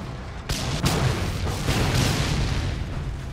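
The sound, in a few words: explosion of an object in the video game Mad Max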